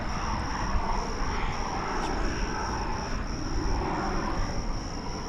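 A tiny airplane takes off at Dallas Fort Worth airport near the executive terminal, its engine a steady distant drone under a constant high insect-like whine.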